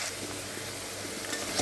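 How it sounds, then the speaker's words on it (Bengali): Potatoes and green banana frying in leftover fish-frying oil in a kadai, a steady low sizzle with faint stirring scrapes throughout, no talking. "আলুটা ভাজা হোক"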